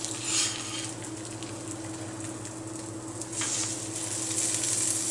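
A grilled cheese sandwich on focaccia sizzles steadily in a hot pan right after being flipped, a close, continuous frying crackle with a faint hum and no talking.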